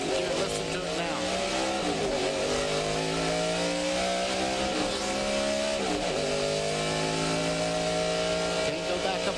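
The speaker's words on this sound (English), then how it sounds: "Robert zooms out of pit road within the speed limit" NASCAR race car at the 2000 MBNA Platinum 400 leaving pit road in second gear, a loud steady engine drone with rising and falling pitch sweeps as it revs, with commentary talking over it.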